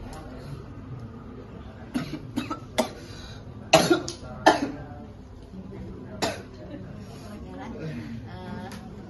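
A person coughs several times in short, sharp bursts, with quiet voices and room noise between the coughs.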